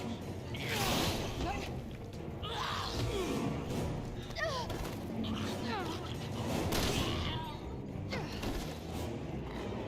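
Scattered gunfire from Resident Evil 6 pops among yelling voices and mechanical clatter, a fairly quiet, busy mix of shots and shouts.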